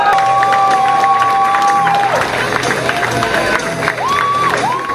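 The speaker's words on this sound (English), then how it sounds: "keep that applause going" A live comedy crowd at the Edinburgh Fringe applauds and cheers loudly, with whoops and shouts rising over sustained clapping as a performer takes the stage. The noise stays full and close throughout.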